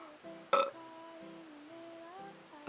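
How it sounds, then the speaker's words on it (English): A single loud burp erupts about half a second in, standing out briefly over a quiet background with a faint low hum. "Burp."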